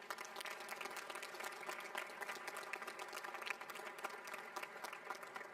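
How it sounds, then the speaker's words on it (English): An audience claps steadily at the christening ceremony for the USNS Hector A. Cafferata Jr. (ESB 8). The dense applause is faint and distant and holds at an even level throughout. "Can I get a round of applause for all of our partners?"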